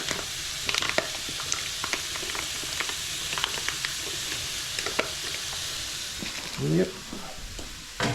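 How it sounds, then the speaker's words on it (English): Smoked lardons and onions sizzle in a pan on an induction or gas hob, a steady loud frying hiss with occasional stirring scrapes and light crackles, and a voice briefly speaks near the end. "So, onions are on. I'm just going to add the lardons, which are smoked."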